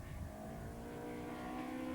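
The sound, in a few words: Caterham race cars racing on track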